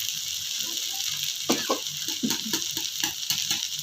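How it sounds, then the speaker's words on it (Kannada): Egg rice fries in a hot pan with a continuous bright sizzle and intermittent crackling pops and stirring scrapes, close and fairly loud, with no voices. "ಸೌಂಡ್ ಕೇಳಿಸ್ತಿರ್ತಾವೆ ಚಟಪಟ ಚಟಪಟ ಅನ್ನೋದು."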